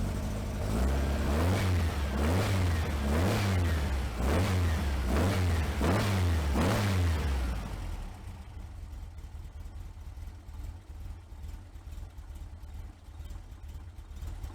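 An air-cooled 1956 Volkswagen Beetle engine with timing that needs adjusting runs in a slow, rhythmic surging pattern for several seconds, then settles into a rougher, quieter idle.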